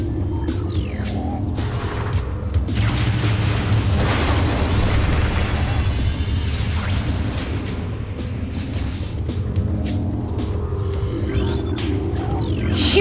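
A power bomb blasts against a wall in Metroid Prime, a loud, sustained roaring explosion that swells and rumbles for several seconds before fading back.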